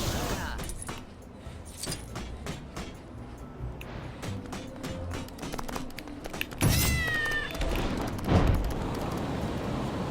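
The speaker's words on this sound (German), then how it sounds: "Schöne schwarze Katze" A black cat meows in the Lego Marvel Avengers video game, a short rising call partway through amid game sounds, clinks and thumps, with talk around it.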